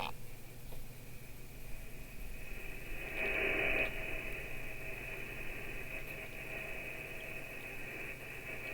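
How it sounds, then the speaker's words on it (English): Steady hiss of static from a homemade radio astronomy receiver, a continuous, even wash of noise with a faint tonal whine, heard alone at moderate level. "That static you hear on your radios, that's all the emissions left over from the Big Bang."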